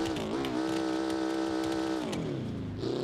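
A loud vehicle engine in the survival game Raft drones and revs continuously, its pitch shifting up and down as it accelerates, heard alone and close.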